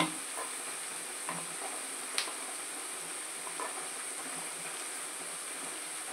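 Onions frying in a pan, a steady soft sizzle running throughout with faint crackles and a few small clinks of stirring, no voices.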